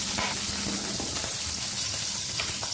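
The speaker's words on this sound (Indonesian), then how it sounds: "Nah pertama di sini aku tumis dulu si daun jeruk sama batang serai" Kaffir lime leaves and lemongrass sauté in hot oil in a wok, giving a steady, loud, crackling sizzle throughout with faint stirring clinks.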